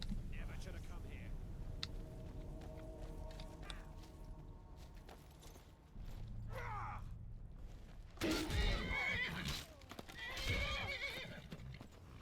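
A horse whinnies repeatedly amid Skyrim game sound effects, with hoof clip-clops and a grunting voice breaking in, followed by a loud crashing burst near the end.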